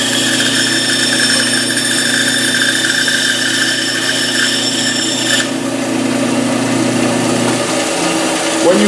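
A band saw runs steadily while cutting a wooden workpiece, giving a loud continuous whine and rasp close by, with the cutting tone changing slightly toward the end.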